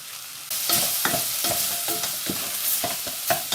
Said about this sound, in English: We just need to keep mixing this to stop it burning.